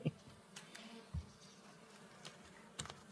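Bees buzzing around Layens hives, a faint, quiet hum with a few brief louder passes close by.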